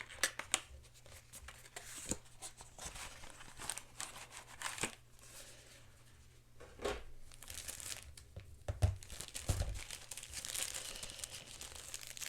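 Karate Kid collectible set with headband, patches and trading cards being unpacked: soft crinkling and rustling of plastic packaging with scattered sharper tearing and crunching bursts, close and fairly quiet, no talking.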